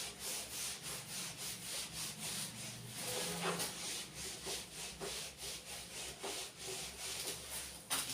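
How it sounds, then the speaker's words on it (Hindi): A duster or cloth rubbed back and forth across a classroom board to erase writing, rhythmic repeated strokes, close and fairly clear with no talking. "मैं इसको सबको रब कर रहा हूं।"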